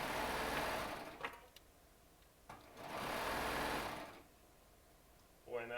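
A Baby Lock serger stitches jelly roll charm squares in two steady whirring bursts of roughly a second and a half each, close and fairly loud, with quiet gaps and a brief voice near the end.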